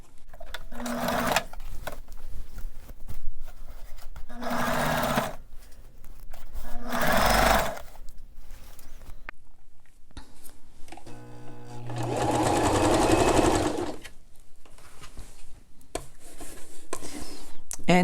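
A sewing machine stitches a dress shirt seam during a shoulder alteration, running in several short, rapid bursts followed by a longer steady run, with quiet pauses between.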